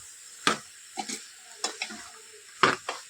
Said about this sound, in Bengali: এখন এইভাবে লাড়াচাড়া লাড়াচাড়া করব